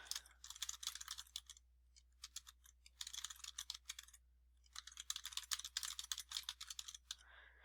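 Close, quiet typing on a computer keyboard in bursts of rapid key clicks separated by brief pauses, with no voices.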